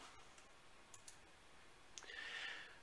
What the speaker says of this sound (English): I'll accept the default selections and click Next.